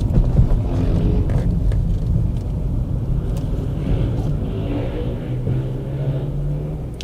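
Car interior while driving, with a low steady hum from a suspected worn wheel bearing or gearbox under broad road and engine rumble; the hum stays continuous at moderate loudness, with no talking.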